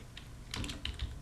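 Quick keystrokes on a computer keyboard, a handful of light, close clicks in an irregular burst over about a second, alone and fairly quiet.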